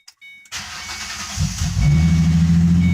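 A 2005-2009 Ford Mustang 4.0 liter engine fitted with an Eaton M90 supercharger cranks briefly, catches and settles into a steady, loud idle, heard up close with no talking.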